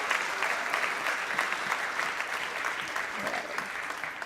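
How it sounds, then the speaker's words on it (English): An audience at a valedictory function claps for a debating team, steady dense applause from a large crowd filling the whole stretch, fairly close and even in loudness. "So a very big round of applause to Team Justa Causa"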